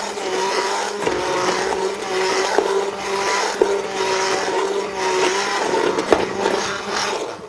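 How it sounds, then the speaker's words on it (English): An immersion blender purees sunchoke and potato soup with a steady, loud, continuous whir that holds without pause from start to finish, alone and without talk. "I'm using an immersion blender, a great tool if you like soups."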